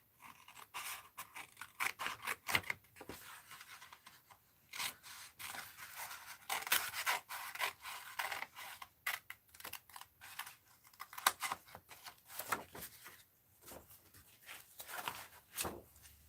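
Scissors cutting printed text out of paper for an art journal, a long run of close, dry snipping and crisp paper rustling in uneven bursts, with no talking.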